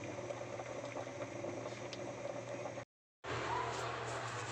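Saba bananas boil in a pot, giving a steady close bubbling and hissing. The sound cuts out briefly in the middle, then resumes at the same level.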